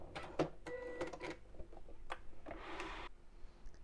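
A sewing machine stitches fabric strips for an Easter bunny ear headband, running in short bursts with quick mechanical chatter and brief pauses between runs, close and fairly quiet.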